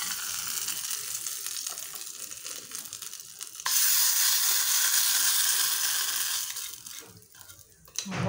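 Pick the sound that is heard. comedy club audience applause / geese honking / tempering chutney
tempering chutney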